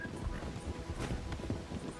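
A horse gallops during a race in Red Dead Redemption 2 Online, its hooves drumming in a quick, steady rhythm that stays fairly faint under a busy game mix.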